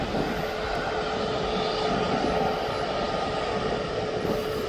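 An airBaltic airliner departs Birmingham International Airport bound for Brussels, its jet engines giving a steady, loud roar that holds at an even level throughout with no voices.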